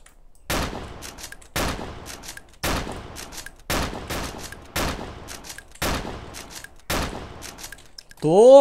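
Gunshots ring out in the video game DayZ: seven evenly spaced sharp blasts, each followed by a trailing echo, with a brief voice sound at the end.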